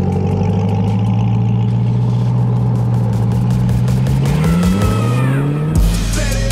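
A modded Chevrolet Corvette C8 2LT revs close and loud: the engine note climbs steadily in pitch over several seconds, then cuts off sharply into a brief drop before picking up again.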